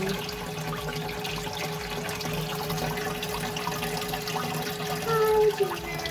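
Water running steadily in a noisy, continuous hiss and splash with faint tonal hum, a constant close wash that swells briefly near the end.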